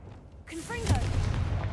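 A Confringo blasting spell goes off in Hogwarts Legacy, a sudden booming burst with a rumbling low tail that follows a player casting it aloud.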